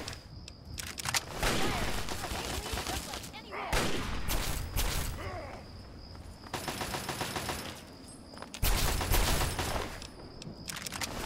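Bursts of rapid gunfire in the Fallout 3 video game come in several clusters separated by brief pauses, loud and sharp, with a voice speaking over parts of it.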